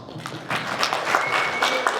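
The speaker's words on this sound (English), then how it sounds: "They can give them a round of applause." Audience at a web series festival creators' Q&A applauds as creators come onstage, a moderate wash of clapping that builds after a quieter start and holds steady, with faint voices mixed in.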